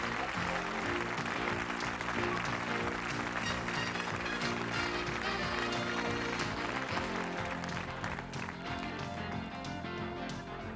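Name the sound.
applause for game show contestants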